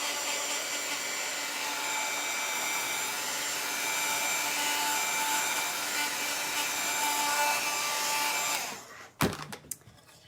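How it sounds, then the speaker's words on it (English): A handheld hair dryer blows a steady, loud rushing whoosh over a stenciled Christmas craft board, running continuously for about nine seconds before switching off, followed by a few knocks and handling sounds. "I'm going to pick it up and run the dryer"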